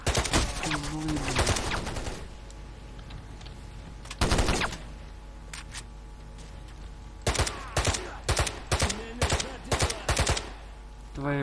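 Automatic rifle fire in the shooter game S.T.A.L.K.E.R. crackles in sharp bursts, a long volley at first, then a lone shot and a later string of rapid separate reports, loud and close against a quiet hum of ambience.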